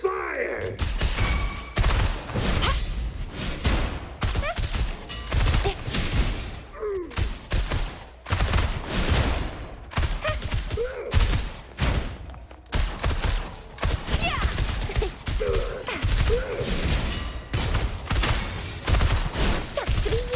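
Rapid gunfire in the Wuthering Waves action game, a loud, sustained stream of sharp shots in quick bursts, with brief pauses and occasional whooshing effects mixed in.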